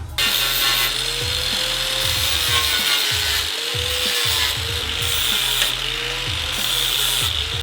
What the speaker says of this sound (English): So I'm gonna take my angle grinder with a flat disc and then shape all these nice and flat.